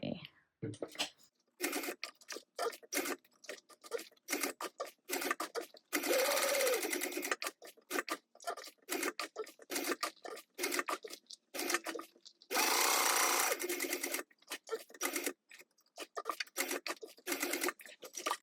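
A sewing machine stitches a bag in repeated short bursts, with two longer continuous runs, close and loud; a person speaks between the bursts.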